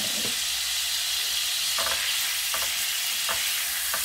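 Butter and garlic sauté in the same pan used for shrimp, a loud, steady sizzle and hiss with a few soft stirring scrapes breaking through.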